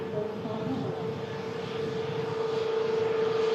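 A Pegasus airliner taxiing nearby, heard as a steady, moderately loud engine whine and drone with a sustained tonal hum that holds evenly throughout.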